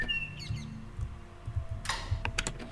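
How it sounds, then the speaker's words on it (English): A pet bird chirps in the Lorelai video game, a few thin high chirps at the start, then sharp clicks like a mouse and keyboard under low background hum. "So Al's got a pet bird."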